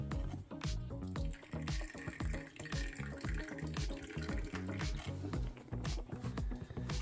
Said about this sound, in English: Let's just put some water in her water dish.